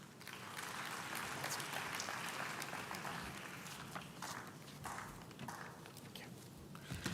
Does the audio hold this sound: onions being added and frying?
no